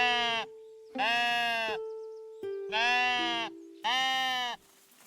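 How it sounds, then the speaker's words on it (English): Sheep in the Tiny Glade video game bleat four times in a row, each call loud, nasal and wavering, close up with short gaps between, over a steady quiet tone. "Here's the sheep."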